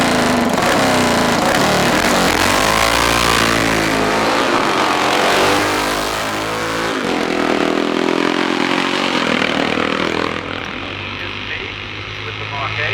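A Mark 8 500cc race car accelerates hard up the Shelsley Walsh hillclimb, its engine loud and close, rising in pitch through several gear changes before receding slightly at the end.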